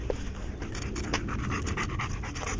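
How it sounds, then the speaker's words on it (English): A dog pants close by in quick, steady, rhythmic breaths against a noisy background, with no talk. "Doggy."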